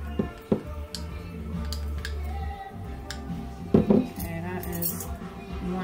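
Spoon scraping and clinking against a jar of raw honey from Lakewood, Washington, while making a chicken marinade: scattered close metallic taps and scrapes, with a sharper cluster of clinks near the middle, over a steady low kitchen hum.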